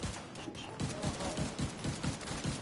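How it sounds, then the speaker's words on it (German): Rapid, dense gunfire rattles through a shooting match in The Division 2, with overlapping bursts of automatic fire continuing loudly and without pause. "Aber die schießen doch auf irgendwas"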